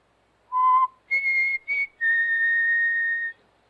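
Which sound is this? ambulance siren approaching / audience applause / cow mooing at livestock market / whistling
whistling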